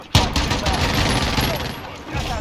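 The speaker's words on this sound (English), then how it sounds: "Yo, whose airstrike was that?" An airstrike in a video game opens with a sharp blast, then a dense, rapid volley of gunfire and explosions rattles on at close range for about two seconds.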